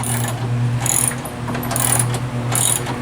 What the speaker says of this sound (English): And the wrenching has started. What size socket you got going there?